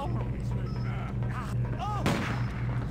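Gunfire in Stubbs the Zombie in Rebel Without a Pulse, several thumping shots and one sharp crack over a steady low hum and game noise, with faint voices.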